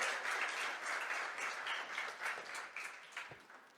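Congregation in a church applauding during a sermon, a moderate, continuous spread of many hands clapping, fairly distant and gradually tapering off.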